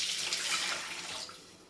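Water pours steadily into a cooking pot for rice in a short, even rushing stream that tapers off slightly at the end, close up with no voices.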